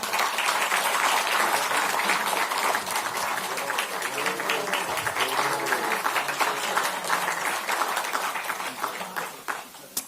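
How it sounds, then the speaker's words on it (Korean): Audience at a political party appointment announcement breaks into steady applause, a dense sustained clapping that fills the room and slowly thins toward the end. "그래서 박수 한번 부탁드립니다."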